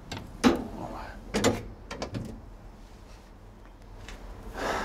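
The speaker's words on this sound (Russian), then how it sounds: "Открываем ящик." A storage box on a tank semitrailer is opened by hand, giving a few sharp metallic clacks and latch rattles, then a quieter pause and a shuffling scrape, with someone talking nearby.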